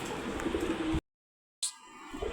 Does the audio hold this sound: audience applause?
no